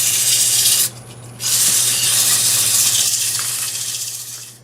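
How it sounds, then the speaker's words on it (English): Sandpaper rubbing against a wet cherry bowl spinning on a wood lathe at about 500 RPM, a steady close broadband hiss with a low motor hum beneath, briefly easing off near the start before resuming and slowly fading. "Sand this forward at about 500 RPM."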